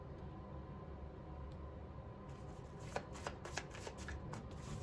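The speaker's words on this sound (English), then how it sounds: "It's kind of hard to shuffle this." Tarot cards being shuffled by hand, a dry papery riffle with a run of sharper flicks and taps in the second half, close and fairly quiet over a low room hum.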